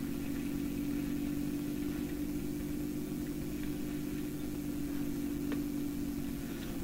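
Tractor engine in Farming Simulator 17 drones steadily at idle for the whole stretch, a constant low mechanical hum with no talk over it.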